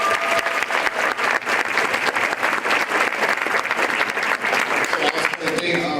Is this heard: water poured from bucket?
no